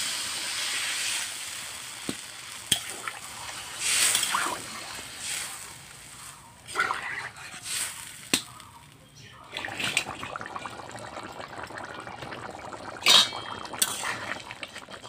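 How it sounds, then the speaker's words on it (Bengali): Water poured into a pan of jackfruit and prawn curry, a steady hissing, splashing rush of liquid broken by a few clatters and louder sizzling bursts, with no voices. "এবার দিয়ে দিচ্ছি জল।"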